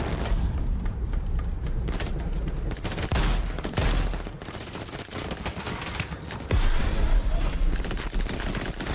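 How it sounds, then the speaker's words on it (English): Enemy gunfire in Crackdown 3, dense loud bursts of rapid shots and booming impacts crackling continuously throughout. "Watch the enemy fire."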